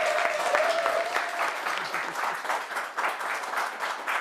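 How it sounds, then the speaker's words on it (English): Audience applause at a talk show, a steady stream of many hands clapping at moderate loudness throughout. "Big applause for that, please"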